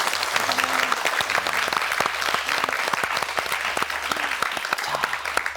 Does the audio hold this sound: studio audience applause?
yes